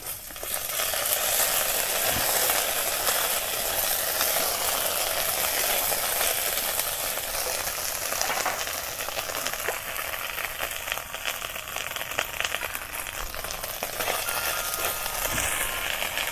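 Ginger paste hits hot tempering oil for masoor dal with bottle gourd, giving a loud, dense, continuous sizzle that holds steady throughout with no talking.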